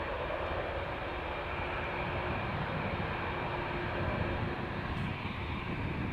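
Boeing 747 airliner, 24 years old, passing by at Amsterdam Schiphol Airport, a steady, loud, broadband jet roar that holds evenly throughout without speech.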